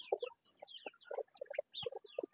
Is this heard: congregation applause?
no